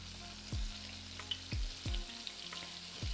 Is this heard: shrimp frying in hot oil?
yes